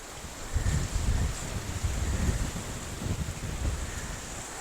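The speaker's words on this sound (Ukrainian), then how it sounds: "Сьогодні вітер дуже сильний." Strong wind buffets and roars steadily, with gusty low rumbling blasts rising and falling and a faint hiss above.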